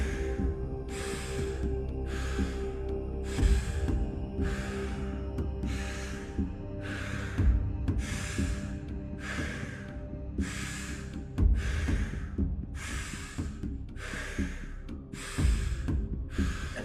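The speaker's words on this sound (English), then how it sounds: "just keep that flow strong by your conscious, connected breathing" Conscious connected breathing during a breathwork session: a steady run of about thirteen deep, airy breaths, evenly spaced and close, over a quiet low musical drone with no talking.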